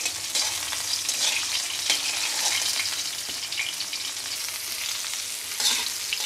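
Bitter gourd and potato pieces frying in hot oil give a continuous, even sizzle with soft crackles and the occasional scrape of stirring. No voices are heard.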